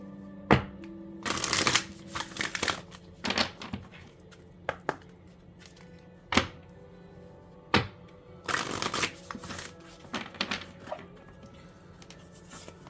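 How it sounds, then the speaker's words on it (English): A deck of cards riffled and shuffled close by, in several bursts of quick fluttering snaps with short pauses between. "That was not a good shuffle."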